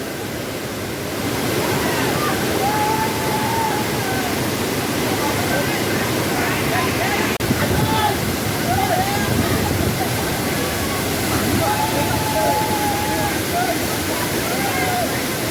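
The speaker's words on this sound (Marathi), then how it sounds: "आपण निवेंडी गावच्या धबधब्यावरती आलो होतो पण इथे आल्यानंतर बघितलं तर पाण्याचा प्रवाह हा वाढलेला आहे" A waterfall at Nivendi village runs with strong, swollen flow, a steady close roar of rushing water filling the whole clip, with faint voices and calls now and then beneath it.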